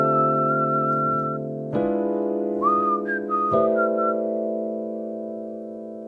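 A person whistles a neo soul chord progression melody alone, clear and close, with a few sliding pitch changes over sustained tones.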